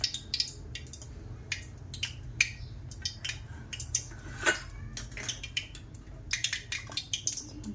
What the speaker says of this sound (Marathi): आपण ब्रेड कट करून घेऊया